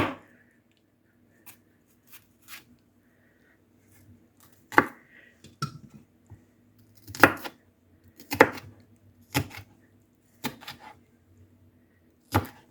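A knife chops green peppers on a cutting board, sparse sharp taps that come irregularly at first and then in quicker clusters, close and fairly quiet in an otherwise silent kitchen.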